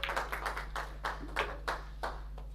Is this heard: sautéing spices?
no